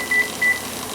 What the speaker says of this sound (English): So I'm going to set the timer for 10 minutes.